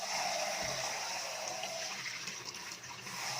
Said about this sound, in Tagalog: Una, hugasan natin yung malagkit.